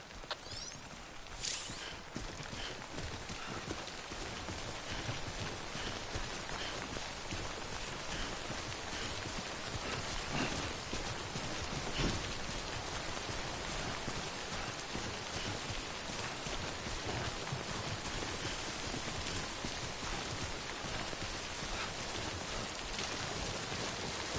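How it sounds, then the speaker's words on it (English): Timefall rain from Death Stranding falls steadily throughout, a constant hiss of drops on surfaces with faint footstep-like taps mixed in, moderately quiet and with no voices. "Don't stay out in the rain any longer than you have to."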